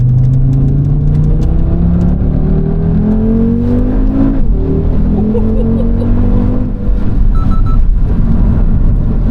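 A Revo Stage 2 tuned Audi RS3 revs hard and loud, its engine note climbing and falling in repeated rising sweeps close by, with faint voices underneath.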